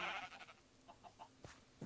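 A Minecraft sheep bleats once, followed by a few faint, scattered soft sounds and a brief low bleat-like call near the end, fairly quiet overall.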